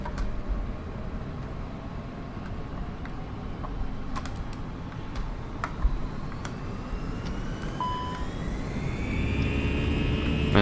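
Jet engines on an airliner spool up toward takeoff thrust, with a rising whine that climbs steadily over a low roar, while scattered cockpit clicks and switch taps sound in the foreground.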